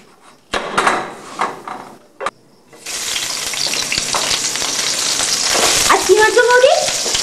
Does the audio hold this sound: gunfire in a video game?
no